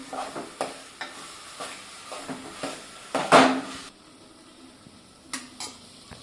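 A spoon stirring and scraping through spiced potato filling for dabeli in a pan, with irregular soft scrapes and one louder clatter partway through.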